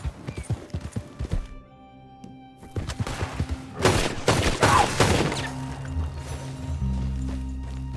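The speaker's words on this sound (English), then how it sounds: "Damn good shooting, señor." Gunshots in Red Dead Redemption 2 during a fight against pumas, a few sharp loud shots amid galloping hooves and commotion, followed by a steady lower rumble as the action settles.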